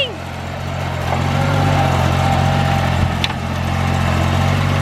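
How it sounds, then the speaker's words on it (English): Tractor engine running steadily during land clearing after a hurricane, a constant mid-pitched drone heard close and continuously, with a brief metallic clank near the end. "The tractor is spinning."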